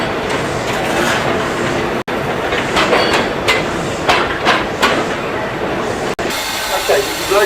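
A train drifting slowly past a massive steel-girder coal stage, heard as a loud, close, continuous rolling rumble with rhythmic wheel clatter and metallic knocks while someone speaks over it.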